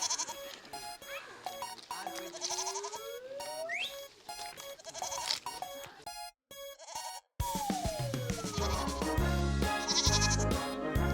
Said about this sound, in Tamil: இதுதான் காட் சவுண்ட்.